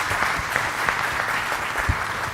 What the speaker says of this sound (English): please join me in giving a round of applause to my faculty